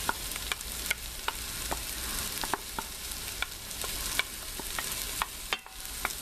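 Minced garlic, cumin and oregano cooking with onions in an Instant Pot, a steady sizzle under regular spoon scrapes and light clicks, and no talk.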